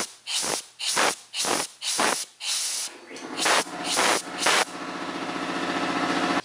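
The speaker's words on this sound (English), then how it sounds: "before I was so rudely interrupted by the air compressor" Loud close hissing from a compressed-air setup with a Harbor Freight HVLP spray gun, first in short repeated bursts, then a longer steady hiss as the air compressor runs on, no talking.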